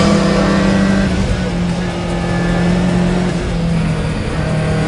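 A rally car's engine drones loudly and steadily as it accelerates, a sustained mid-pitched roar with shifting tone from a close vantage.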